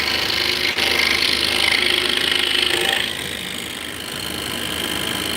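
A power tool cuts out a wooden board in a home workshop, a loud steady whine close by that drops to a lower running hum partway through, with no talking.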